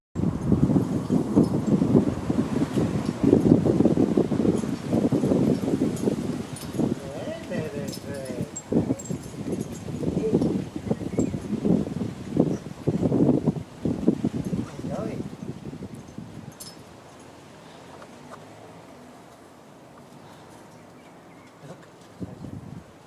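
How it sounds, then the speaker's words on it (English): Gusty wind rushes through a magnolia tree and rustles its leaves in uneven surges, loudest early on and easing toward the end. "It's a very windy day, and this is a magnolia tree,"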